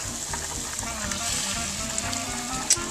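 Shrimp frying in a pan of reduced sauce, a close, steady crackling sizzle with a faint voice underneath and a sharp tick near the end.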